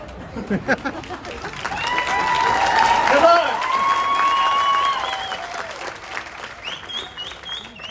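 A theatre audience at a Marathi stage play breaks into sustained applause for a friend, a dense wash of clapping that builds and holds for several seconds before thinning out, with voices murmuring through it.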